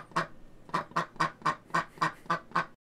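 A duck in the Old School RuneScape Easter event quacks nine times in a quick, even series, each quack short, clear and close.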